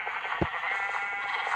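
A sheep bleats once in a blocky crafting video game, a short clear call rising over a steady background of game sound.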